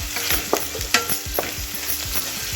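Ivy gourd (tindora) frying with salt in a pan, a close, steady sizzle punctuated by a handful of quick spatula scrapes and clinks as the pieces are stirred, with no talking.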